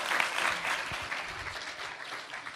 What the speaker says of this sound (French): je pense qu'on peut l'applaudir pour s'être prêté à l'exercice.